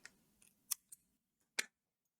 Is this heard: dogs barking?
no